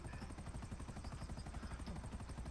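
Rotor blades of a helicopter chop in a steady, fast beat with an engine drone beneath, loud and continuous throughout with no voices.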